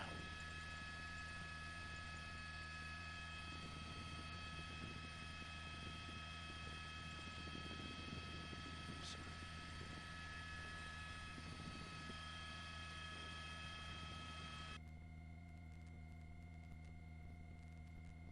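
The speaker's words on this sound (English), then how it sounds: "We're going to swing the helicopter around a little bit." A police helicopter hovers overhead during a car chase, a steady droning rotor and turbine hum that continues without a break and drops in level near the end, with no talking.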